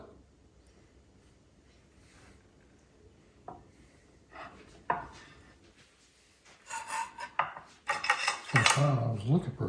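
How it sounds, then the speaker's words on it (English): Knife slicing through a cooked boneless leg of lamb on a plate, scattered scrapes and clinks of metal against dishware growing busier and louder toward the end. "but I can cut a piece with this knife."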